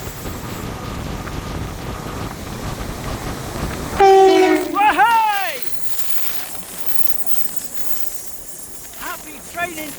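A train on the seafront line at Teignmouth blasts its horn loudly and close by, a sustained two-tone call with falling pitch, following a steady rumble of passing rail cars, with voices talking nearby.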